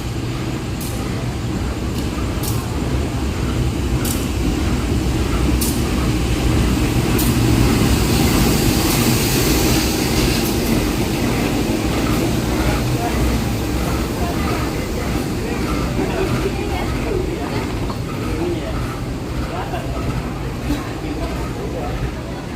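The Motis Selatan train pulls into a Jakarta station, arriving from the Kampung Pandan direction. It makes a loud, steady rumbling roar with sharp metallic clicks and squeals scattered through it, and it swells in the middle before easing off.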